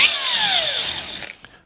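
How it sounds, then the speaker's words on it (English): A power sanding disc grinds a crusty steering shaft part for a 1937 Zephyr, a loud high whining rasp that slowly winds down in pitch before cutting off. "I'm gonna clean this up a little with a sanding disc."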